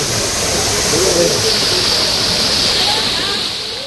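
Waterfall at a cave site in Meghalaya, a steady broadband rush of falling water that stays loud and constant throughout, close by, with no clear voices over it.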